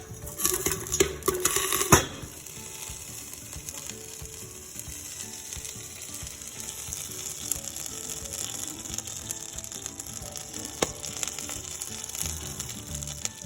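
Popcorn pops inside a covered pot with a dense, fast burst of rattling pops early on, then settles into a faint steady sizzle and occasional scattered pops.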